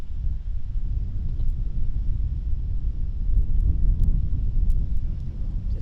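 Strong wind buffets the microphone on a golf course during a varsity match. A constant low rumbling roar runs the whole time with no pauses.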